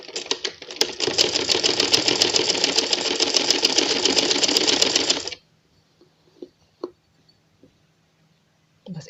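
A sewing machine stitches a trouser seam, running as one loud continuous rattling burst of about four seconds, then stops, leaving a few faint clicks and handling noises.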